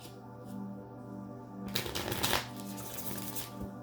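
A deck of tarot cards gets a quick riffle shuffle up close, a short crisp burst of flapping card edges in an otherwise quiet room.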